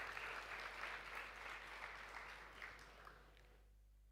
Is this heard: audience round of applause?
yes